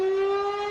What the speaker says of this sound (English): Tornado sirens roaring in Tennessee.